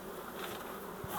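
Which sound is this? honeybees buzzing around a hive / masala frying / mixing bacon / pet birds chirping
honeybees buzzing around a hive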